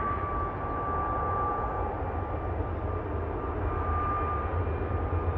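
A Boeing 737 MAX 8 rolls down the runway for takeoff, a steady, even engine roar holding at constant level throughout, with no voices over it.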